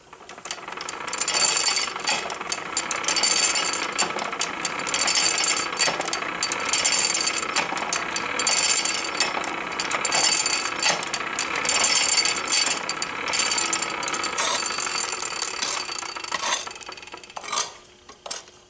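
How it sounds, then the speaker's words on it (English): Bellows pumped on a charcoal and bituminous coal forge lit with flint and steel, giving a steady, loud run of rhythmic mechanical creaks and clanks with airy rushing, continuing unbroken for most of the stretch before easing off at the end. "Now if I do too much pumping of the bellows here, it's just basically going to be a waste of fuel."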